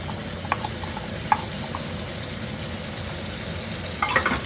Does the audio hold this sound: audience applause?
no